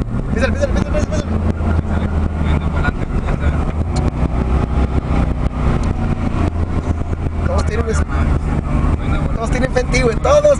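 A Jeep accelerating through the Altar desert roars loudly and continuously, engine drone mixed with wind rush as excited voices yell over it.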